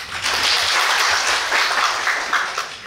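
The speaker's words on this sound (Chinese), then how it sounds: "我们再热烈掌声欢迎。" An audience at an academic lecture applauds to welcome a professor, a dense, steady wash of clapping that holds through the whole stretch without letup.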